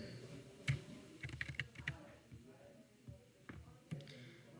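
Keys clatter on a computer keyboard while entering a formula in an Excel attendance sheet, a run of light close taps ending in firmer key presses, with quiet speech in the background.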